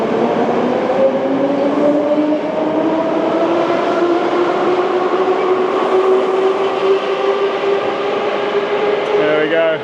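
Moscow Metro train pulling out of an underground station, its rising electric motor whine sweeping upward over a steady rumble of wheels for nearly ten seconds, loud and close.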